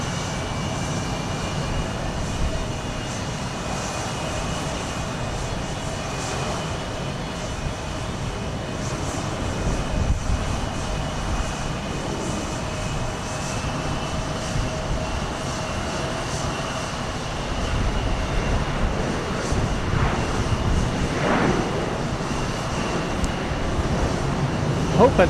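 Airliner on flight 441 to Frankfurt taking off from Houston Intercontinental, a broad sustained jet-engine roar heard from a distance, building slightly toward the end.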